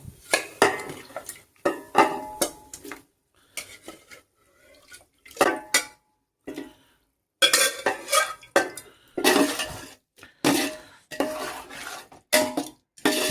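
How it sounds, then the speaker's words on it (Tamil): Mutton sukka and masala being mixed in a metal pot for Dindigul biryani, repeated scraping and clanking strokes of a ladle in irregular bursts with brief pauses, close and without talk. "நல்லா மிக்ஸ் பண்ணி விட்டுக்கலாம்"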